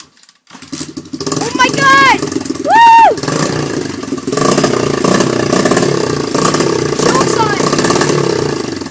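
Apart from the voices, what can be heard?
engine starting and revving after a motor swap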